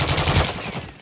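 Rapid automatic gunfire from a gun game mode in a video game, a dense, loud burst of overlapping shots filling the whole second without a break.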